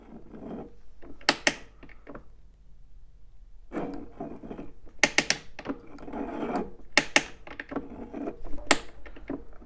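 Stiff engine crankshaft turned slowly by hand, giving intermittent grinding, scraping rasps with sharp clicks and knocks in uneven bursts, close and moderately loud.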